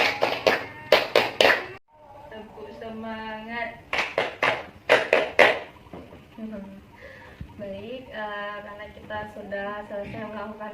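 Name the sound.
group clapping rhythm game 'tepuk semangat'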